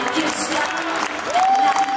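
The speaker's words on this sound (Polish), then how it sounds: "I oczywiście oklaski dla 14-15 ranków." Audience at an under-16 Polish dance championship jive final applauds in a steady wash of clapping and light cheering, heard for a couple of seconds.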